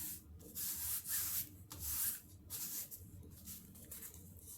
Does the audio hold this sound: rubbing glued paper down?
yes